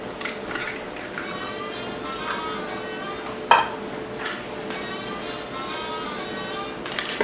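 Sugar and a room-temperature egg are creamed together in a bowl for old-fashioned tea cakes, with a steady close scraping and whisking and occasional sharp clinks of utensil against the bowl.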